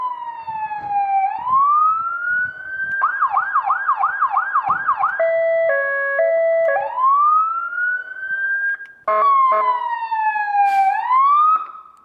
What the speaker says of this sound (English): This is on siren test mode,